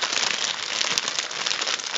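Small objects poured onto a hand to imitate rain, giving a dense, steady pattering hiss like rainfall on a surface, close and continuous with no talk.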